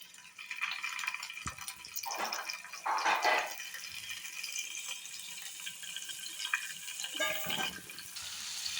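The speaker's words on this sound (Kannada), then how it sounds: "ಇವಾಗ ಇದಕ್ಕೆ ನಾವು ಈ ಸಣ್ಣ ಸಣ್ಣ ಕ್ಯೂಬ್ಸ್ನ ಹಾಕೊಂಡು ಫ್ರೈ ಮಾಡ್ಕೊಳ್ಳೋಣ" Small paneer cubes fry in hot ghee with a faint, soft crackling sizzle that rises in a few brief bursts over a quiet background.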